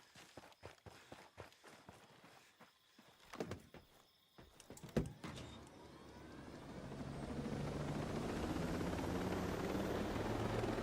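In the Ghost Recon Breakpoint video game, running footsteps come first, then a helicopter's rotor and engine swell into a loud, steady drone that fills the last half of the scene.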